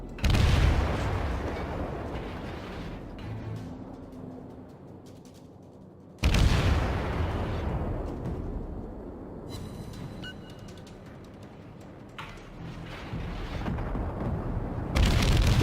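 Naval gunfire and shell impacts in World of Warships with an Akatsuki destroyer, heavy booming salvos that decay into rumbling noise, a sharp loud blast midway and another near the end.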